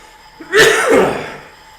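A single sharp, forceful cough from a cyclist during indoor esports training, close and loud, with a short rough tail.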